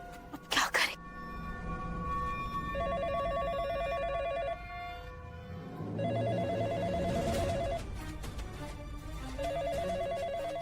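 An electronic telephone ring repeats in three bursts at steady intervals over background music, with a short sharp clatter at the start.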